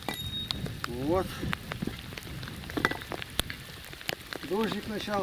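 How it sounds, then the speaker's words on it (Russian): Light rain begins falling outdoors by a small footbridge over a stream, a faint patter of scattered drops and crackles under intermittent voices talking nearby. "Дождик начался."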